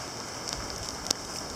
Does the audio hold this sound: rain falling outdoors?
yes